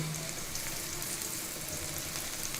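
Onions fry in oil while being stirred for a rui fish curry with ridge gourd and potato: a dense, even sizzle, close and constant, with faint stirring underneath and no voices.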